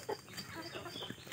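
Chickens and a rooster at a small low-budget poultry farm in Konkan give a brief, faint burst of clucking over farmyard background noise.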